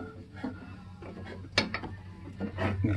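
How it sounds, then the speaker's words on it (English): Wrench clicking and ratcheting on the mounting bolts of a power window motor inside the door of a 1973-77 GM A-body car, with several short metallic clicks and taps close by and no talk. "I'll put the wrench on them."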